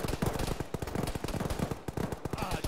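Rapid automatic gunfire rattles in dense bursts in a military shooter video game, sharp repeated shots from several weapons filling the scene with barely a pause.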